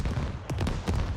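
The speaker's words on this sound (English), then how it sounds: "That is a Hellcannon shot." A Hellcannon fires in a tank-battle video game set in Mutaha, with Canadian armor fighting insurgents: a couple of short, heavy booms over a dense, rumbling wash of battle noise.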